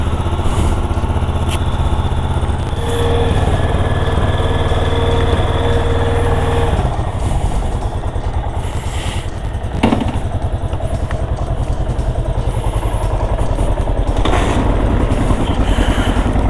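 A Yamaha XT 600 Ténéré single-cylinder motorcycle engine running close by, a loud steady thumping rumble that carries on through the whole stretch with small shifts in pace and occasional clatter.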